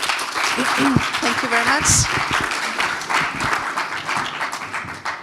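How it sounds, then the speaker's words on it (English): An audience applauds a team at the Code for Earth 2024 final event, a dense, sustained clapping wash, while a voice briefly speaks thanks over the start. "So another round of applause for the team"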